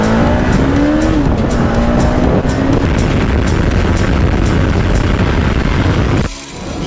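A Bajaj Pulsar RS 200 motorcycle is ridden on the road, its engine droning loud and steady with a rising and falling tone, then dropping away abruptly near the end.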